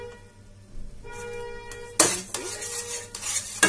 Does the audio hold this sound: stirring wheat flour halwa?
yes